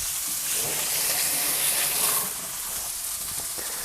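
Steady, bright sizzling of meat frying in a hot pan, loud and continuous, easing slightly toward the end.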